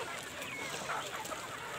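Chickens clucking in a farmyard, a few faint, brief calls over a steady low background hiss.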